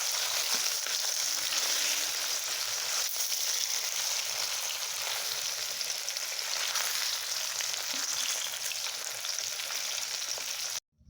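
Fish pieces fry in a pan at home, giving a steady, close, hissing sizzle that runs unbroken and fairly loud before cutting off abruptly at the end.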